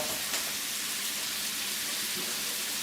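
Tofu sautéing in olive oil gives a steady, close, loud sizzle with a dense frying hiss and no breaks, with no voices over it.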